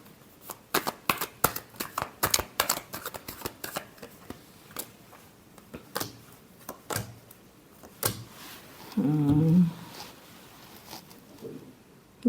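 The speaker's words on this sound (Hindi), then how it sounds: "Last shuffle." Tarot cards are shuffled by hand in a quiet room, giving a close series of quick papery flicks and taps that slow and thin out, with one longer riffle near the end.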